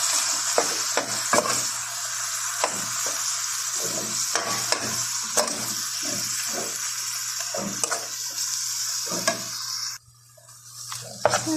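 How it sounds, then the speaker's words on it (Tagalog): Salted ground meat fries in a pan under a constant sizzle while a spatula stirs and scrapes it in frequent, uneven strokes. Near the end the sizzle drops away abruptly and a few quieter scrapes follow. "mix lang po natin hanggang siyang naluto, guys"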